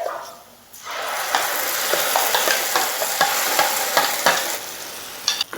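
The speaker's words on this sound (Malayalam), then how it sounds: "സവാള നല്ലൊരു ഗോൾഡൻ കളർ ആവുന്നത് വരെ നമുക്കൊന്ന് വഴറ്റി കൊടുക്കാം" Onions sautéing in a pan with ground paste for a drumstick chammanthi, a steady sizzle broken by repeated scraping strokes of the spoon, close and fairly loud after a short quieter start, with no talking.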